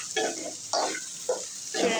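Meal maker soya chunks fry in a pan with a pinch of salt, heard as four short bursts of scraping stirs over a low, steady sizzle.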